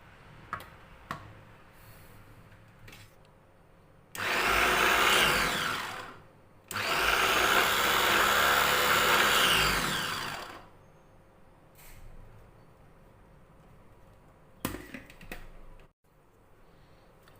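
A food processor whirs loudly in two bursts of several seconds each, blending avocado, separated by a short pause, with quieter clicks and clatter around them.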